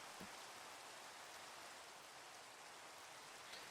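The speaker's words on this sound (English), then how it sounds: "Go away, rain." Steady rain falls in Minecraft at night, a broad, even hiss of drops on surfaces with no voices over it.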